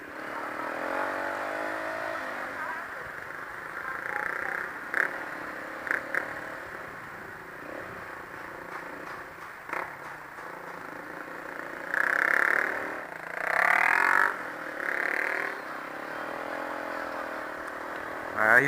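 A motorbike rides slowly through busy traffic in Hue, Vietnam, its engine humming steadily close by, with brief louder bursts like passing vehicles or horns near the end.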